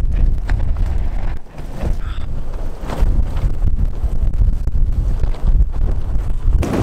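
Strong wind batters a camping tent pitched on a cycling trip in Morocco, a continuous loud roaring buffet with flapping gusts, close to the microphone and without pause.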